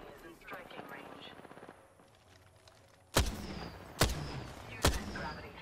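Gunfire in the battle royale game Apex Legends: three sharp, loud shots ring out about a second apart over background game ambience, following a stretch of quieter rapid clatter and murmuring effects.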